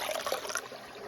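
Water tipped out of a bag onto rocks beside a trail, a short, soft splashing trickle heard alone and close.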